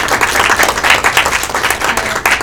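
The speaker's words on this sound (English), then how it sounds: "can we give them a round of applause for being so amazing?" An audience at an advocacy panel in Salt Lake claps for the panelists, a close, lively burst of hand clapping with a pulsing rhythm throughout.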